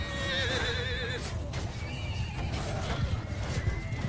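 Horses whinnying loudly in a Bannerlord battle with a large mounted force, wavering high neighs overlapping, hoofbeats and battle din underneath.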